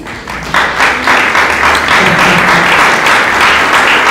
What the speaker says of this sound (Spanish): ¿Cuánto le dan otro aplauso a Dios?